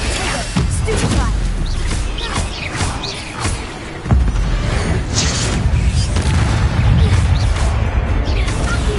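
Stupefy spell impacts in the video game Hogwarts Legacy: loud booming thuds and crashes over a dense layer of game effects and whooshes, with one heavy hit standing out midway.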